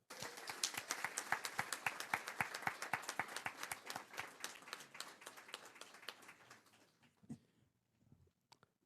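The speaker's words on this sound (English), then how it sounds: "Let's give another round of applause for our retirees" Applause for retirees at a school governing board meeting: a steady, dense round of clapping that thins out and fades to a few scattered claps near the end.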